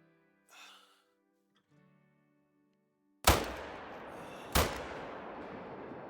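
Rifle shots at a mule deer buck in the hunting video game Call of the Wild, set in Alberta: two sharp, loud, close blasts about a second apart, each followed by a long rolling echo after a quiet stretch.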